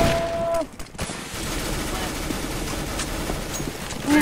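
Gunfire in a CS:GO match, a steady wash of shots and combat noise, loud and continuous, with a faint voice briefly present.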